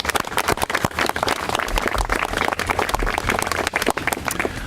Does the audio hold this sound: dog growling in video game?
no